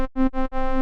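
A bright, buzzy hardstyle synth lead plays through a filter with its cutoff raised on both oscillators. It sounds out four loud, rich sustained notes in a quick rhythm with short gaps between them.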